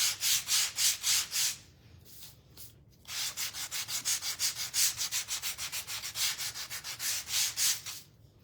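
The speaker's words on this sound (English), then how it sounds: "we're gonna sand it with a heavier grit." Heavier-grit sandpaper rubbing back and forth on a wooden piece for farmhouse kitchen decor, producing loud, rhythmic rasping strokes close by, with a brief pause in the middle before the steady strokes resume.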